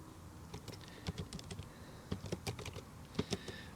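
Quiet typing on a computer keyboard, a steady stream of soft key clicks with small irregular bursts, close and alone.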